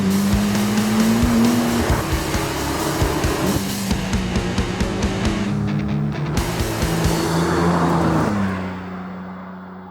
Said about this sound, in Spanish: McLaren Artura Spider, 700 caballos, 6 cilindros, tecnología híbrida